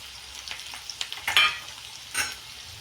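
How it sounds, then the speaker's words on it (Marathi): Garlic frying in hot oil for bhel crackles and sizzles close by, with a string of small pops that build to a sharper burst midway and another spatter near the end, and no speech. "आता हा लसूण तळत आला"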